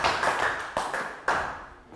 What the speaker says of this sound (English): Round of applause for Pakul and Nick.